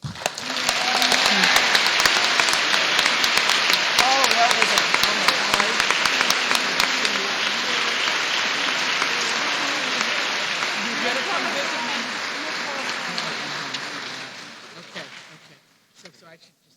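Sustained applause from an audience at the 2023 Virginia Literary Awards in Richmond, honoring award winners; dense, steady clapping with voices mixed in, holding for about fifteen seconds before tapering off to silence.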